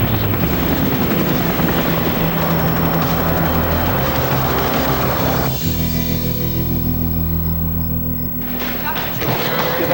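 A helicopter flies and descends, its steady rotor throb and engine drone loud and close for the whole stretch. Voices talk over the noise, which thins out partway through.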